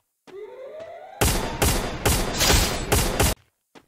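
Gunfire in the Free Fire battle game: a short burst of about five loud, rapid shots in a tight rhythm, preceded by a brief rising weapon or ability whine and followed by a faint trailing thud.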